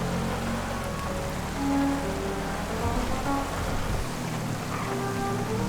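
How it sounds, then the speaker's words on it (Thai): Nighttime rain falling in GTA V, a dense, steady hiss of rainfall with a low rumbling undertone, constant throughout. "โอ้ดูดิ ฝนตกอีกแล้วนะครับ"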